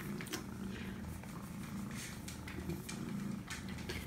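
A kitten purrs softly and steadily for about four seconds, a low continuous rumble with gentle rhythmic pulses and no talking over it.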